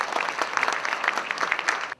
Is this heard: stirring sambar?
no